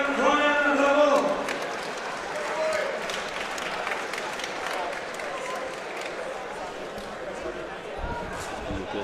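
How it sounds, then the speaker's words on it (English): A crowd at a boxing fight night applauds a fighter after the bout, the clapping and cheering fairly faint and diffuse in a large hall, while a voice speaks over it at the start. "And a round of applause for the gallant Ryan Leorne"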